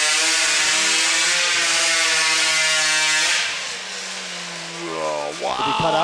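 A modified hot saw chainsaw in a timber sports competition cuts through a thick wood disc. A loud, steady, high-revving engine whine holds for about three seconds, then drops off and revs back up.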